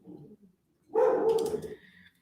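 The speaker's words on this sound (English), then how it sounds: "And my dog joins in." A dog barks close by in one loud, sustained bark with a whiny edge, preceded by softer low grumbling and followed by a faint trailing whimper.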